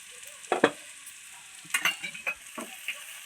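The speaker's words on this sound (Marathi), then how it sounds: "उकडलेले बटाटे टाकू छान परतून घेऊ" Boiled potatoes being sautéed in oil in a pan for a spinach and potato dish, with a few distinct stirring scrapes and soft sizzles in short bursts, close and moderately loud, with no talking.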